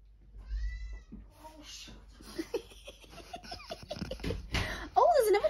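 A cat under a table meows a few times, with a sharper meow near the end, amid scattered laughter and people talking nearby in a nail salon.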